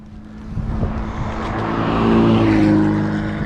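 A street motorcycle runs with its exhaust detached, giving an unusually high, raw engine note that rises and swells as it revs, loud and close with no talking.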